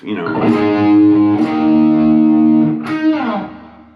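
A distorted electric guitar plays a short riff of sustained, dry notes with no echo trailing behind them, loud and close.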